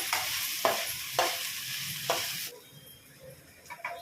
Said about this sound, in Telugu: జింజర్ గార్లిక్ పేస్ట్ వేసుకుందాము